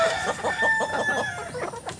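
Newly hatched chicks of mixed breeds, including Rhode Island Red, Black Australorp and Barred Plymouth Rock, peep and chirp rapidly and continuously while eating feed, close and clear.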